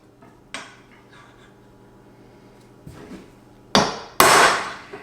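A hammer strikes a metal punch to peen a rod end, sharp close metallic taps: one early light hit, a softer knock, then two louder strikes in quick succession near the end.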